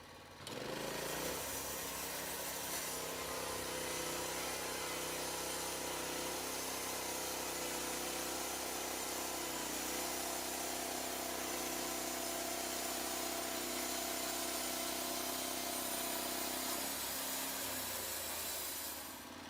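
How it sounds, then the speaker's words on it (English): A Lumber Pro HD36 portable sawmill runs its engine in a steady, droning hum that holds constant for the whole stretch, with slight shifts in load partway through, loud and close with no talking. "the Lumber Pro HD36 is engineered big enough, rugged enough, and productive enough to handle it"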